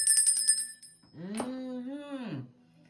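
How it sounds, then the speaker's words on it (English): A small hand bell rings with bright, clear strikes at the start and then fades, followed by a long pitched vocal tone that rises and falls. "Let me ring my bell."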